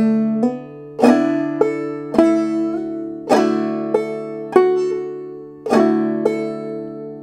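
Clawhammer banjo plays the second half of the A part of "Fly Around My Pretty Little Miss" up close, in a steady, ringing rhythm of struck notes and brushed strums, with no talking.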